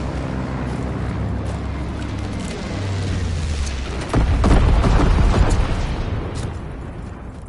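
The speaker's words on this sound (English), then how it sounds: "Enemy bomber. Incendiary bombs incoming." Incendiary bombs dropped by an enemy bomber in a video game burst into a loud, sustained roaring blast over a steady engine-like rumble, the eruption swelling midway and then slowly fading.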